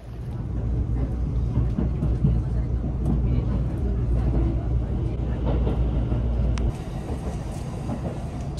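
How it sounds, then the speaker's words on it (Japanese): Ina-ji limited express train running on the Iida Line through a remote mountain valley, a steady loud rumble of wheels and carriage noise from inside the train. "秘境感漂う渓谷山間部を列車は進んでいきます。"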